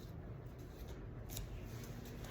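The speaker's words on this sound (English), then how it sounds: "I will continue to do a little bit of a shuffle here" Oracle cards are shuffled by hand in a quiet room, giving soft, close, continuous riffling and sliding with a few brighter flicks, faint and steady.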